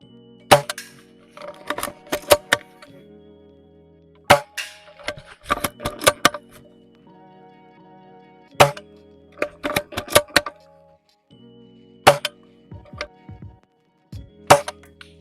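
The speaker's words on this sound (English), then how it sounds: "this thing should be shooting at about 450 FPS, but without the hop up, it's probably only shooting about 350 maybe" Shots from an airsoft sniper rifle running without its hop-up, sharp snapping cracks repeated in spaced bursts with clicks and rattles of handling and cocking between them, close by and fairly loud, with no talking.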